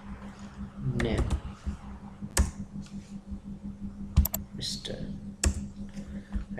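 Computer keys clatter as code is typed, scattered sharp clicks and taps at close range with a voice talking over them.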